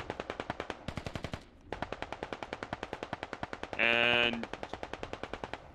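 AK rifle gunfire in the video game Operation: Wicked Gardens, rapid automatic bursts of sharp shots in quick rhythm with a brief pause, loud and close, while a voice speaks briefly.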